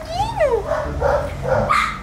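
A pet dog barks and yips in a few short bursts while someone speaks Portuguese over it, close by, indoors.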